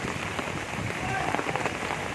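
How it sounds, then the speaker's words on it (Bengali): Heavy rain from a Kalbaishakhi storm pours steadily onto a waterlogged road, a dense, even hiss that runs throughout with no break. "কীভাবে বৃষ্টি হয়েছে দেখুন, জল অনেক জমে গেছে রাস্তার উপরে, প্রচুর পরিমাণে বৃষ্টি হয়েছে"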